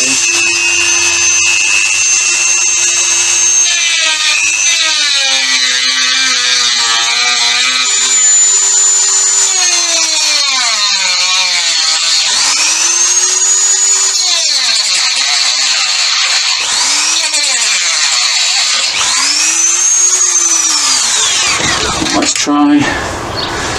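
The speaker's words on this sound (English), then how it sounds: "we'll try and attack this thing with my Dremel" A Dremel rotary tool cuts a slot in a Kawasaki Z650 shock absorber with a loud, close, high whine. The pitch swoops and dips repeatedly as it bites into the metal, then cuts off at the end.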